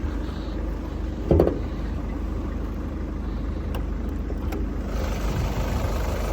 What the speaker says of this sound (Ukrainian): Двигун працює просто ідеально.